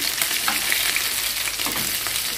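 Stuffed sheep intestines (mombar) fry in hot oil with a dense, steady crackling sizzle, close and loud, with no speech.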